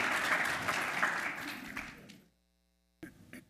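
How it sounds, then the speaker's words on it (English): Audience applause for a panel at the CANTO 2024 conference in Miami, a dense wash of clapping that fades out around two seconds, then silence before a brief burst of sound near the end. "Well, big round of applause for the panel."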